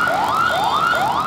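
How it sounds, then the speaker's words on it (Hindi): An ambulance siren wails in repeated rising sweeps, loud and close, three full cycles of the climbing tone with no talk over it. "और एम्बुलेंस के सायरन भी डेसिबल मीटर की तरह हमारे कानों को सुर्ख किए"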